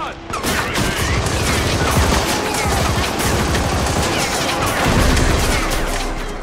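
Sustained gunfire from the Army of Two: The 40th Day video game, a dense barrage of rapid shots and booms filling the whole stretch at steady loudness with no talk.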